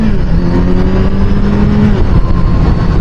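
A 2023 Kawasaki Z900 naked motorcycle pulls hard under acceleration, its engine note loud and close, rising steadily through a sustained rev with no talk over it.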